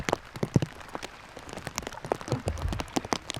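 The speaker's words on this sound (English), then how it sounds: "It's raining and it's cold," Rain falls during a spring river trip down the Dumoine, with irregular close taps and drips hitting surfaces in a patter of uneven spikes, with no talk.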